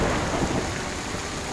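Torrential monsoon rain with thunder over flooded farm fields in Banaskantha, Gujarat, during 2024's extreme downpour: a dense, loud roar of rain with a deep thunder rumble filling the whole brief moment.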